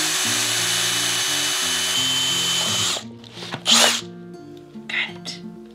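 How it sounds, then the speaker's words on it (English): A power drill whines steadily at high speed for about three seconds while drilling into wood, then stops, followed by some faint scraping and handling sounds. "and I'm going to drill."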